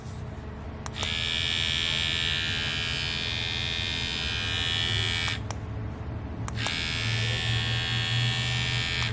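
A Style Craft Pro Absolute Hitter hair clipper switches on and buzzes with a steady high whine, cuts off briefly, then starts again, close and fairly loud with no talking.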